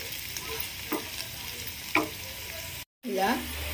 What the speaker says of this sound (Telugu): మధ్య మధ్యలో కలుపుకుంటూ ఇది మొత్తం అంతా కూడా మంచిగా ఫ్రై అయ్యేంత వరకు కూడా మనం ఫ్రై